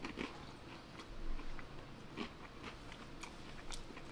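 Close, crunchy biting and chewing of Bartoli's pizza crust, repeated crisp crackles and munching at an irregular rhythm, fairly quiet with no talk.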